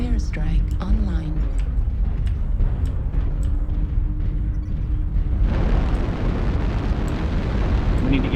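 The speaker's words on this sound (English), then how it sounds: "Airstrike online." Airstrike explosions in MechWarrior Online rumble in a dense, sustained barrage of bursts and booms that swells louder partway through, with people talking over the din.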